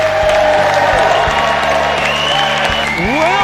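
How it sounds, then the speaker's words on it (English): A studio audience at a stand-up comedy tournament breaks into loud, steady applause with cheering and whoops, a dense crowd roar filling the clip from start to finish. "Ladies and gentlemen, scream and yell for Leland Klassen."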